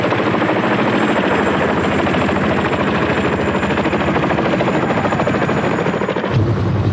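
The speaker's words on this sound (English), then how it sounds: "The Boeing Berthold Chinook, the Western world's standard medium-lift helicopter for almost 30 years" A Boeing Chinook tandem-rotor medium-lift helicopter, its two rotors producing a loud, continuous rapid chopping thump that stays steady and close throughout, cutting off abruptly near the end, with no talking.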